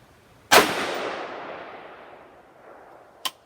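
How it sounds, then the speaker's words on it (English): A single sharp 6.8 SPC rifle shot from a 16-inch AR-style upper on an outdoor range, loud and close, with a long rolling echo that fades over about three seconds, then a small distant click. "That last shot felt like it broke a tiny bit high, but not too bad."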